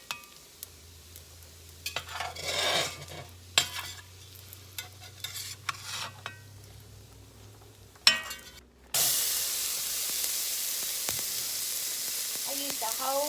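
Bacon grease in a frying pan, a steady close hiss of sizzling fat that swells loudly partway through, preceded by scraping and clinking as the bacon is lifted out.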